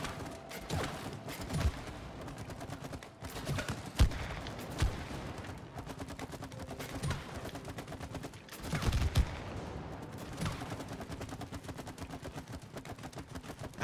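Rapid gunfire at a shooting range in the video game It Takes Two, bursts of shots and blasts at targets with mechanical clicks, loud and dense throughout with no talking.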